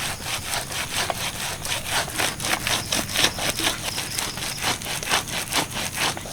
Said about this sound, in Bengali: এটা থেকে তালের পাল্পটা বের করব তো তার জন্য এই যে ঝুড়িটা এইভাবে রাখলাম দেখে এইভাবে ঘষবো